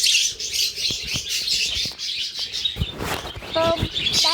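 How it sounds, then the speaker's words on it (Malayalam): Small young birds chirp and tweet repeatedly in a busy, high-pitched chorus close to the microphone, with a person talking quietly underneath. "കുറേ കിളിക്കുട്ടികളുണ്ട്."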